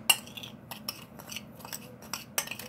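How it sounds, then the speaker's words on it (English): A spoon scrapes and taps against a bowl while dry spices for a Dominican pork pernil are stirred together, giving a handful of sharp close clinks at irregular intervals over quiet background. "So what I'm going to do is I'm going to mix all of this together."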